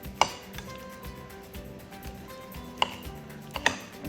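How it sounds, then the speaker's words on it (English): Knife chopping beets on a cutting board for potato salad, a quiet run of soft steady taps with a few sharper knocks, close by and with no voices. "once you're using your knife, you really have to be careful how you're cutting them stuff"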